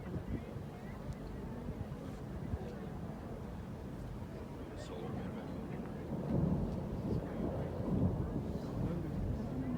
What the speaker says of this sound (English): It's ice popping and moving, and then right before it breaks off a piece, it sounds like thunder rumbling.